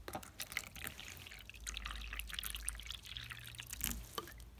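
Water trickles and drips into a tarantula's water dish, a faint, thin splashing heard close up over a quiet room with a low hum.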